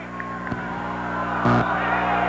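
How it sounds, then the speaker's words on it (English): A wrestling arena crowd at a youth tournament lets out a loud collective groan of disapproval, a steady roar of voices that swells toward the end, with a brief louder shout partway through. "The crowd doesn't like it."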